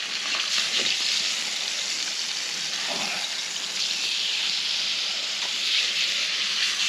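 An egg frying in a pan with garlic butter, a steady close sizzle and hiss that runs continuously at even loudness with no talking over it.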